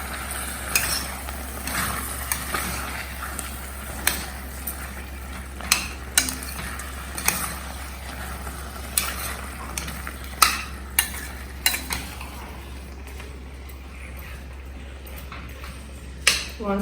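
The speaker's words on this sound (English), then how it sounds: "Saute." Paneer pulao ingredients sizzle steadily in a pan while a utensil clinks and scrapes against it at irregular intervals, close by.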